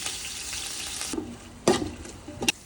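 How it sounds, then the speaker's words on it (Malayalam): Onions fry in a pressure cooker for biryani with a soft, steady sizzle, followed by a few scraping stirs near the end. "മസാലയ്ക്ക് ആവശ്യമുള്ള സവാള നമ്മളിതിലേക്ക് ആഡ് ചെയ്യണം."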